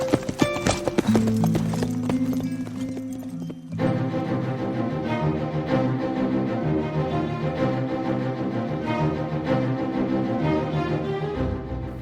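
Horse hooves clip-clopping steadily as a mare is ridden away, a close and fairly loud audio-drama effect over a musical score.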